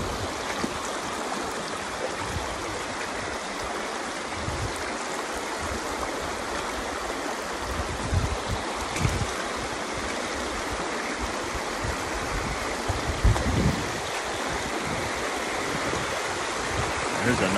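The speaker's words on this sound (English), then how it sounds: "Nice creek." A creek runs over rocks in a continuous, fairly loud rushing babble that fills the whole stretch, with a few louder splashes now and then and no talk.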